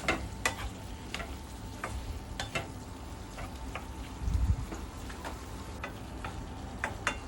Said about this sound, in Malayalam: എന്നിട്ട് എല്ലാം കൂടെ നന്നായിട്ട് മിക്സ് ചെയ്യുക. തക്കാളിയൊക്കെ ഉടച്ചിട്ട് ഫുള്ളായിട്ട് മിക്സ് ചെയ്യുക.